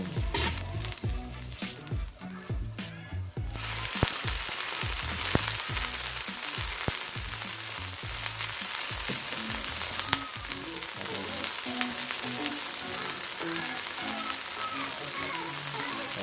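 Tilapia is stir-fried in a pan, giving loud continuous sizzling with irregular clinks and scrapes from stirring, and a short quieter moment early on.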